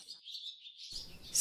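Birds chirp in a run of high, bright tweets through a short radio segment on birds, the calls staying fairly steady with a soft low rumble entering near the end.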